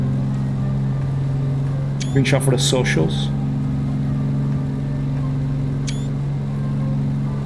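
Twin radial engines of a Grumman Goose amphibian plane in Microsoft Flight Simulator drone at a steady, loud, even pitch throughout, with someone briefly talking over them.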